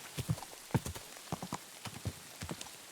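Horse hooves clip-clopping in the Kingdom Come Deliverance 2 video game, an uneven walking rhythm of soft thuds on the ground over light rain patter, fairly close.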